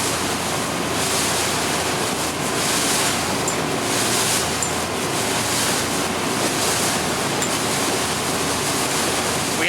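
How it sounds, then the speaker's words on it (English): Strong wind roaring over a boat at sea, a steady loud broadband rush mixed with surging water and hull noise, continuous with no voices. "We have some wind today"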